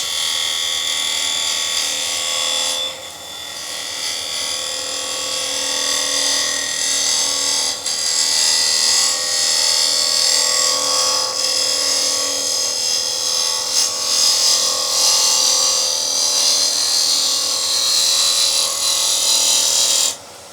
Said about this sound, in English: I'm going to use the side of the bevel here, resting on the wood.